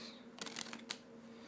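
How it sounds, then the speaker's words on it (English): Playing cards are riffled in a quick shuffle, a short flurry of crisp flutters with a sharp final snap, close and fairly quiet against a steady low background hum. "I'm gonna take the cards, and I'm gonna give them a shuffle face up and the face down"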